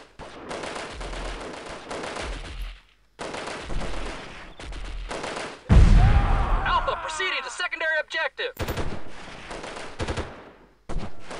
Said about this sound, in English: trying to shoot you dead from inside their own tents